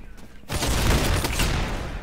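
Shotgun gunfire in the Roblox game Arsenal, a dense, loud burst of overlapping shots that starts abruptly about halfway in and continues to the end.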